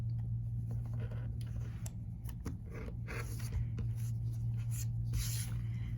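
A dull rotary blade trims excess fabric off a quilt block, producing short scraping and rubbing strokes close by over a constant low machine hum.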